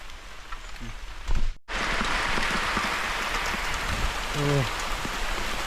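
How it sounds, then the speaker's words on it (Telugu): Rain pours steadily in a hillside valley, a dense even hiss that briefly cuts out, then resumes at full strength, with a short voice heard near the end. "ఇక్కడైతే వర్షం అయితే స్టార్ట్ అయిపోయింది"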